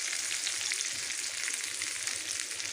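Masala-coated fish fries in oil, giving a steady, close, crackling sizzle that holds at an even level from start to finish with no voices.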